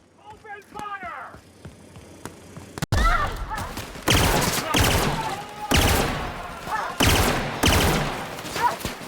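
Sustained bursts of gunfire in the sci-fi video game The Outer Worlds, loud and rapid, repeated in several volleys after a shouted command and some game speech at the start.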